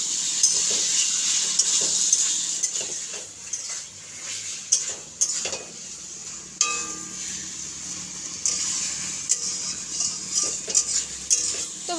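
Onion, tomato and ginger paste being stirred in a pan: repeated scraping and clinking of a spatula against metal over a light, continuous sizzle, close and fairly loud.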